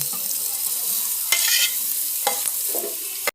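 Chopped onions dropped into hot coconut oil in a pan, giving a steady close sizzle with a few sharp stirring scrapes and clatters, no voices.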